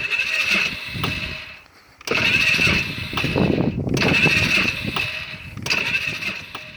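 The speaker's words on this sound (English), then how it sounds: "Oh, there's a backfire. But it did turn over there." A Polaris Sportsman 500 ATV that has been rolled over is cranked repeatedly, with bursts of starter and engine sound broken by short pauses and a backfire. The machine is close and fairly loud.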